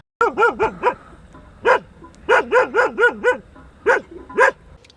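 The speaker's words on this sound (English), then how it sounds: "Dogs." Several dogs bark near a bird photography hide in rural Serbia, giving loud, close yaps in quick bursts with short pauses between them.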